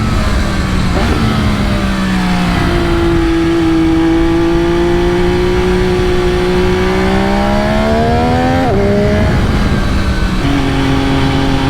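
A 2020 MV Agusta F3 800 RC motorcycle fitted with an SC Project exhaust revs loudly and continuously up close, its engine note climbing and easing through several sustained pulls with no talking.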